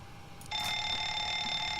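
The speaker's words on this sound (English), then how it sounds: "That is the fire alarm, the engine fire tests." The engine fire alarm test bell in a PMDG 737NGX flight simulator starts abruptly after a brief click and rings as a continuous, loud, steady electronic tone.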